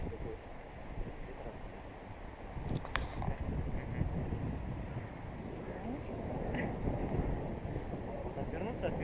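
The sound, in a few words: wind blowing into the microphone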